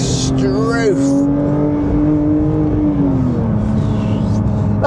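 Porsche GT3 engine revving hard up through its range and holding a high, strained note, with a person talking over it close by.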